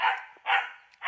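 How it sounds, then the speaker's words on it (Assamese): A dog barking outdoors near a large buffalo, three sharp, loud barks close by in quick succession with no talk. "এইফালে কুকুৰটোৱে ভুকি আছে"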